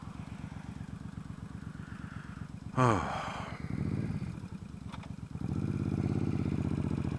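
A bobber motorcycle's engine rumbles steadily and low while being ridden, with a brief exclamation, a louder surge partway through and a fuller drone near the end.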